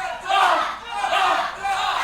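Wrestling crowd at a WrestleForce live show in Ipswich roaring and shouting in sustained swells, loud and dense, with no voices standing out.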